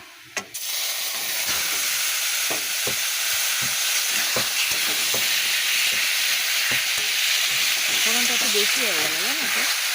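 Bori lentil dumplings fry in a pan of oil on lowered gas, giving a steady, close hiss and sizzle with repeated utensil taps. A voice speaks briefly near the end over the frying.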